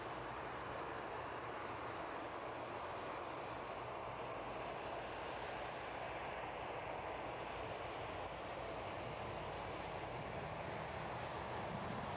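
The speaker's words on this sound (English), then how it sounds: "just sticking with that 767 as it makes its way down to runway 27" A Boeing 767 descends toward runway 27 at East Midlands Airport at night, a steady broadband jet roar holding at constant moderate level throughout, with no voices.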